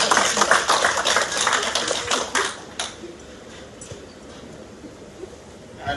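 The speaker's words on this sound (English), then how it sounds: "Let's clap for him." Audience applause at a mental health gala dinner: a dense burst of many hands clapping at close range for about two and a half seconds, then quickly fading to scattered claps and room murmur.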